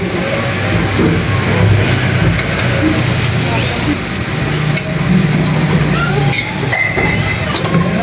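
Street traffic in Manila forms a constant, loud wash of engines, rumbling vehicles and occasional revving, with someone talking over the noise throughout.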